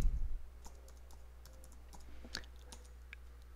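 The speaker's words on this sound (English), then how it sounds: "Let me type that password right." A password is typed on a computer keyboard as a short run of quiet, irregular key clicks close by in a hushed room, with no talking.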